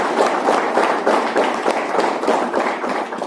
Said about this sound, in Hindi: एक बार उनके लिए ताली हो